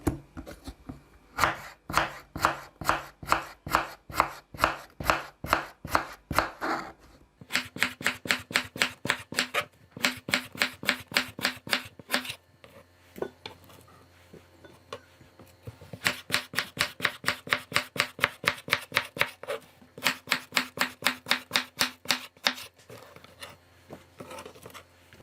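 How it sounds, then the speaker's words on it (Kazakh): A knife chops cucumber on a cutting board while a quick fresh salad is made, giving rapid, even, close-up knocks in several bursts separated by short pauses, with no talking. "Огурцыды да дәл солаймен турап аламыз."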